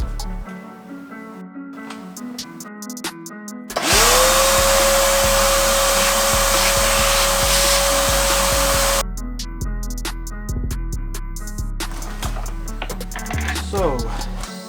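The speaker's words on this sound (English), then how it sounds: "I'm gonna take this and I think I'm gonna vacuum it." A vacuum cleaner is used on an Xbox One S console with bug debris and what looks like water damage. It starts abruptly and runs loud for about five seconds, a steady whining roar, then cuts off. Music plays throughout.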